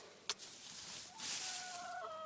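A hen clucks and murmurs faintly inside a portable chicken coop over a steady hiss of background noise, with one brief knock near the start.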